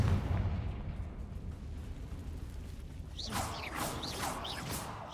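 A Confringo fire spell from the Hogwarts Legacy video game bursts with a rumbling blast, followed by a series of swooping, whistling magical effects near the end.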